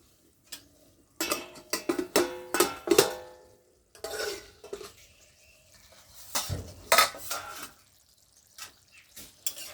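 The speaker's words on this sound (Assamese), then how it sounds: "আৰু এতিয়া মই মাংসখিনি অলপ লাৰি দিছোঁ।" Lamb meat for curry being stirred in a metal pot, with a series of loud scraping and clanking spoon strokes in bursts, pausing between rounds.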